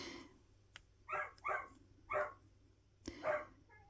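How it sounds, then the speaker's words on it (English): A dog barking indoors, four short moderate barks in an uneven rhythm, fairly close, with no talk over them. "She just likes to bark."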